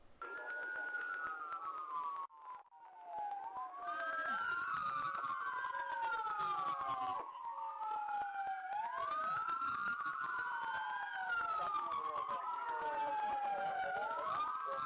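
Police sirens wail continuously in Riverside, several overlapping rising-and-falling tones sweeping back and forth during a vehicle pursuit, fairly close, with steady traffic rumble beneath.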